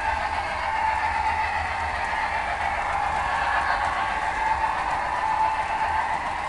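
A model CSX train runs on an MTH DCS model railroad layout, making a continuous, even rolling hum and rumble that stays steady and fairly close throughout, with no voices.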